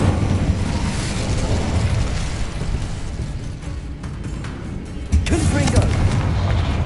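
A fire spell cast in the Hogwarts Legacy video game gives a sustained roaring, crackling burst under continuous game noise and a voice, swelling again in a loud blast near the end.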